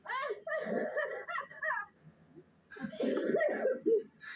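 A woman coughs and laughs in hoarse, choked bursts, with a short pause between two fits, close and fairly soft.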